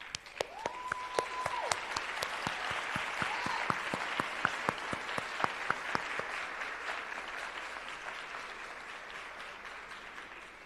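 An audience at a scholarship awards ceremony applauds the awardees with sustained, dense clapping that holds steady and then slowly thins, with a few sharp individual claps standing out.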